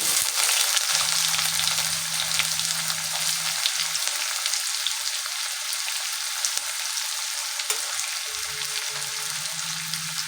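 Onion, cumin and crushed garlic frying in a pan for matar paneer, a continuous bright sizzle close up with faint occasional stirring clinks.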